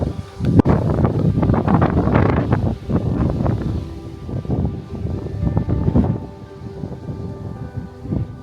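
Gusty wind buffets the microphone outdoors beside a dam in rural Wales, a loud continuous rumbling roar that swells and eases in waves with no voices.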